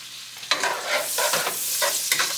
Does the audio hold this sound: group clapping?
no